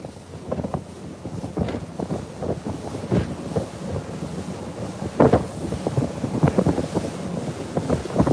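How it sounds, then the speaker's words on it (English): Heavy wind buffets a microphone on a small fishing boat on rough water during a hurricane, a loud continuous roar broken by irregular gusty thumps and wave noise, with no talking. "Is the wind real loud for you guys"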